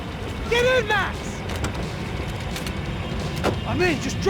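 A car speeds along in the video game Max Payne 3, its engine a steady rumble beneath urgent shouting voices and brief impacts.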